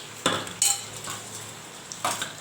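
Food fries in a pan, giving a soft steady sizzle broken by a few close clinks and scrapes of a utensil against the cookware.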